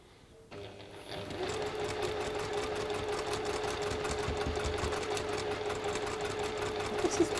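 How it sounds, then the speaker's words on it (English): A sewing machine stitching along a seam line in a quilting workshop, starting up after a quiet moment and then running in a steady, fast mechanical whir close by for the rest of the stretch. "So we're just going to sew that on that line."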